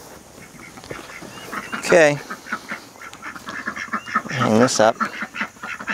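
Farm ducks quack in two loud, raspy bursts during morning animal chores, close by, with a person speaking briefly between them.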